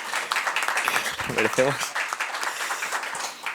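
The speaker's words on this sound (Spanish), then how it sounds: "quiero que también le deis un aplauso a Soraya" Steady applause and clapping from a conference audience in Vila-real, honouring Soraya, the founder of AFIM LGTBI Villarreal; it runs the full length while a voice briefly speaks over it.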